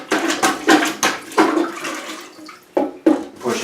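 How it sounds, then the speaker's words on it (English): A plunger is worked in a toilet bowl being emptied before the toilet is removed, giving repeated loud, close sloshing and gurgling surges of water in an uneven rhythm. "So I'm going to use a plunger"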